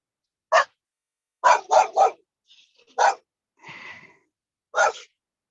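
A pet dog gives several sharp, close barks, a single bark, then a quick triple burst, followed by spaced single barks and a rougher huff, with silence between them.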